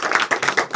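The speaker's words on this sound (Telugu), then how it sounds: "వావ్, క్లాప్స్ కొట్టింది." Several people clap at a fifth-anniversary cake cutting in the Sathamanam Silks saree store, a short burst of close, quick, steady hand claps with no talk.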